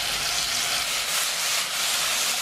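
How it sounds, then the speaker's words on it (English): Wood ear mushrooms stir-frying in a dry pan make a constant hissing sizzle. Faint crackles and pops are scattered through it, close and steady, with no speech. "if you listen carefully, you're gonna hear some snap, crackle, and pops. That's the wood ear mushrooms."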